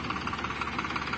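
Farmtrac 60 tractor engine hauling a trolley loaded with manure up a ramp in third low gear, a steady, close, even droning rumble with a slight pulsing chug and no talk over it.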